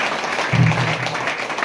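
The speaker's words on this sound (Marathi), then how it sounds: "आपण पण जोरात टाळ्या वाजवून प्रभूचे आभार मानायचे आहे." A church congregation at a prayer centre claps together in thanks, a steady wash of applause with a low hum rising briefly in the middle.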